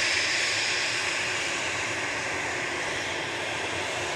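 A Boeing 737-800 airliner arriving from Nashville at Dallas Love Field gives a broad, steady jet roar, loud and unbroken, with no voices over it.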